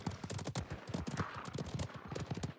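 Rapid hoofbeats of a horse galloping in a video game, a steady, dense clip-clop rhythm kept up throughout at moderate loudness.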